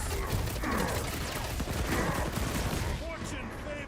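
Rapid bursts of blaster gunfire in Marvel's Guardians of the Galaxy video game, a dense crackling fusillade with mechanical clatter running nonstop under game music and character voices talking over it.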